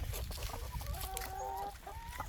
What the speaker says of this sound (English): I got 25 female chickens.